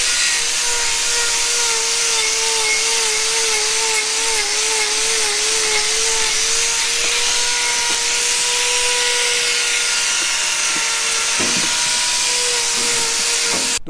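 An angle grinder runs continuously while trimming and reshaping cow hooves during lameness treatment, a loud steady whine with a wavering tone and gritty hiss throughout.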